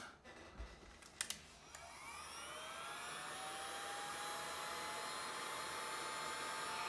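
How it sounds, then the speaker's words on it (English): An old heat gun runs continuously with a steady, loud whooshing blow and a high whine, switched on after a few clicks and held alone for several seconds while converting a humbucker guitar pickup's wiring. "Grab the old heat gun."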